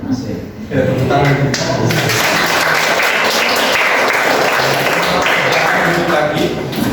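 Students clap their hands together in a school classroom during a guidance session, a dense, steady patter of many hands that fills the room loudly from start to finish without pause.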